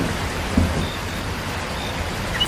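Steady rain falls in an animated Hindi bird cartoon, a constant even hiss of drops with one soft thump near the start and no voices.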